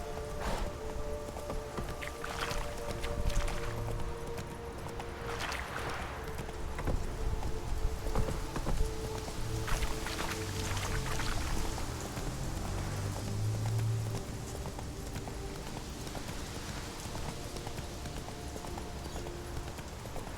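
A horse gallops in The Witcher 3 video game, its hoofbeats a steady stream of clip-clops over a constant bed of rain and game ambience, with brief speech.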